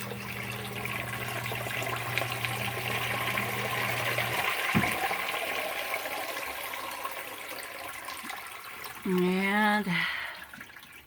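Water trickles and splashes steadily as it runs back into an indoor sump pit, close and continuous, while a low motor hum stops partway through and a person speaks near the end.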